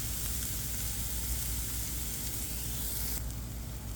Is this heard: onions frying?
yes